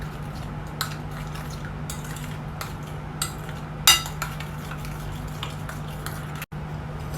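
Powdered sugar and salt get stirred in a bowl, with a utensil giving soft scraping sweeps and scattered light clinks against the bowl over a low steady hum, fairly quiet and close, with no talking.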